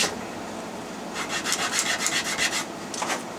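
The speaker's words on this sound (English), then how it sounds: "We just want to sand the" Raw leather cue tip, bottom face rubbed on sandpaper: close, rhythmic rasping strokes, about a dozen quick back-and-forth passes over steady background hiss, with no talking.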